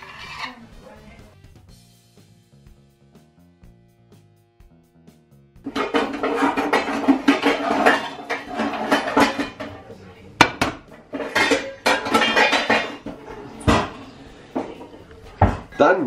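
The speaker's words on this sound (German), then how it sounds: "Erster Schritt sind die Hühnchen in Streifen schneiden." A knife cuts chicken into strips on a kitchen board while wraps are prepared. After several quiet seconds, close, loud clattering strokes and knocks of blade, board and utensils follow in busy irregular bursts.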